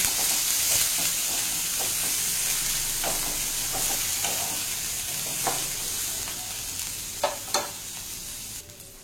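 Schezwan fried rice made from cooked rice is stirred in a pan over a medium flame, with a dense continuous sizzle and recurring scraping strokes of the spatula, loud and close, without speech.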